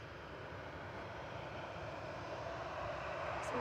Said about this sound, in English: This one is heading off to Alicante, Flight 4076, operated by another 737-800